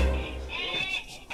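An animatronic Halloween graveyard prop that lifts its head and screams, giving one short wavering, bleat-like shriek, close and fairly loud.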